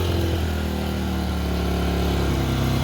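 A RATO 700i inverter generator runs steadily just after starting, its small engine giving a loud, close, even drone with a strong low hum and no pauses or voices.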